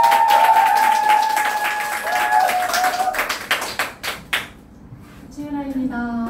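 An audience welcoming a speaker breaks into clapping over upbeat music that fades out. The applause thins toward the end as a voice begins speaking.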